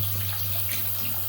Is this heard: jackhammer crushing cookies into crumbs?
no